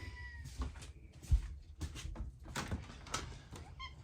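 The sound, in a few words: cat meowing to come in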